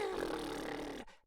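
A voice imitates a comical snore for a sleeping monkey in a children's bedtime story, one drawn-out rumbling snort that fades and stops after about a second.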